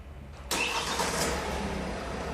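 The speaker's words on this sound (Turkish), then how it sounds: "Çalıştırın arabayı." A Kia City car's engine starts abruptly with a sharp crank, then settles into a steady, close idle.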